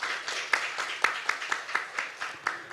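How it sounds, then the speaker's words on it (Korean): Audience at a forum session clapping to welcome a speaker, fairly faint, with a regular series of distinct hand claps over a soft background patter. "박수로 환영해 주십시오."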